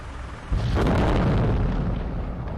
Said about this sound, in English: resulting in a massive explosion.